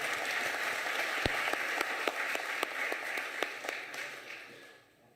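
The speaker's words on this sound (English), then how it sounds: "If you want to give yourself a round of applause," Traditional and Khoisan leaders at the opening of their National House applaud, soft distant clapping in a large hall with scattered sharper claps, tapering off into quiet.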